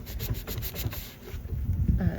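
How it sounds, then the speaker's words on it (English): Coarse grit sanding sponge rubbed back and forth on a vintage faux bamboo desk, giving quick scratchy strokes in a steady close rhythm with a short pause before the rubbing resumes. "I thought this coarse grit sanding sponge would be good"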